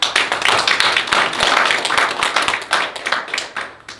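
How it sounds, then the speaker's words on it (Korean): Applause from an audience at a Seoul gathering of education groups backing a centre-right school superintendent candidate, steady dense clapping for about four seconds, fading slightly at the end. "다시 한번 박수로"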